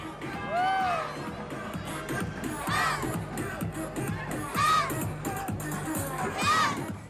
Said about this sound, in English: Thousands upon thousands of people lined the route. This was a record-breaking crowd.